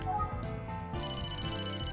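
A phone call rings in the video game Emio The Smiling Man on Switch, a repeating electronic ringtone of bright tonal beeps that changes pitch midway, sounding clearly and loudly with no talk over it.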